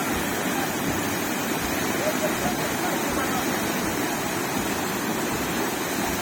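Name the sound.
waterfall, water falling forcefully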